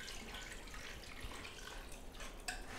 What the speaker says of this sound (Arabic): نخلي المي هسه